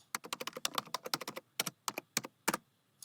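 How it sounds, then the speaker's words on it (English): Fingers typing on a computer keyboard in quick, irregular bursts of sharp close key clicks, with a brief pause midway before a few final harder strokes, heard alone. "I believe that is me typing on this keyboard right here."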